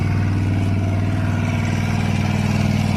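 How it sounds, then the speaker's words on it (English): A motorcycle engine runs close by with a loud, steady pulsing throb, rising slightly in pace as it is revved. "Even check out the sound of the engine."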